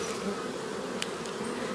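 Honey bees at a hive with a single brood chamber and top box hum in a steady, dense buzz, close and continuous, with a faint tick partway through and no speech.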